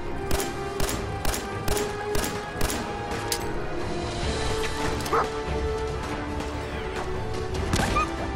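Dog barking and whimpering in the Fallout 4 video game, a series of sharp barks with whines among gunfire and crashes from a shootout, all under a busy game soundscape.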